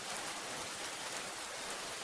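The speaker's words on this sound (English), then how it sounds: "The rain continues to fall, and now it reaches the ground, quietly" Rain falls at night in a steady, even hiss with no distinct drops, soft and continuous throughout, with no voices.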